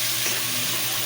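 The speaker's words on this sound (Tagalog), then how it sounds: "Halo natin mga lods para hindi siya tumikit." Chicken for tinola sizzles in a pan as it is stirred, making a steady, close frying hiss with no breaks or talking over it.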